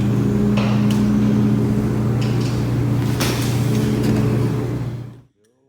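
Gas burner flame heating the side arm of a glass Thiele tube, a loud, steady roaring hiss with a low hum, which cuts off abruptly near the end.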